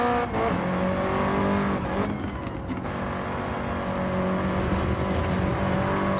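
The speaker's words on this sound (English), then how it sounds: "You can just hear the engine backfiring through it." A race car in Gran Turismo 7 drives through a corner with a steady, loud engine drone, and a brief crackling backfire bursts near the two-second mark before the engine hums on.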